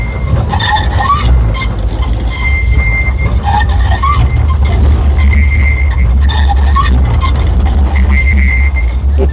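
A city tram runs along its rails in Europe with a loud, continuous low rumble. Wheel squeals and rail screeches rise and fall at intervals over the steady rolling noise.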